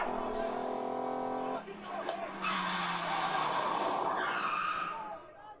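Tires squeal as a car skids to a stop in a war film scene, a harsh rising screech lasting several seconds, heard at moderate level behind a tonal drone and voices.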